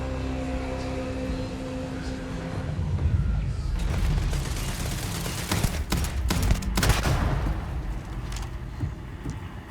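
Turret gunfire in Starfield, with rapid bursts and heavy booms building to a dense, loud barrage over rumbling low noise, no talk.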